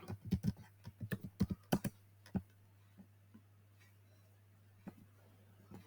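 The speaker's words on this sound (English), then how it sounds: "so here I will type the iPhone 12" Fingers type on a computer keyboard, with a quick run of crisp, close key clicks that thin out into a few scattered taps over a low steady hum.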